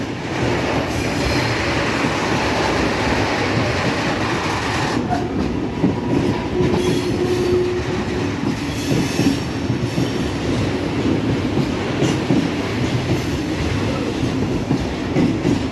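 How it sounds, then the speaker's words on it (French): A freight train hauling a long string of supply wagons, seven or more, rolls steadily past close by, a continuous rumble of wheels and rattling cars with occasional clicks and faint squeals, lasting throughout. "Encore un wagon d'acheminement."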